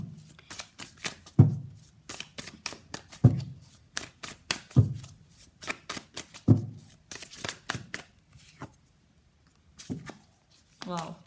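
Tarot cards being shuffled by hand in repeated crisp riffling bursts, each ending in a soft tap, with pauses between and talking in places.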